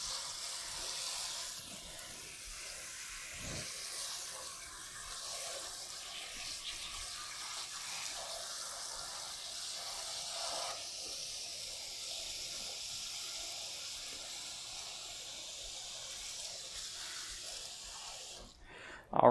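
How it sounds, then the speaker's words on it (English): Tap water runs steadily into a pot of potatoes for mashing, a continuous broad hissing pour that holds for nearly twenty seconds with little change in level, ending in a brief louder clunk. "now we're just gonna fill this pot up with water"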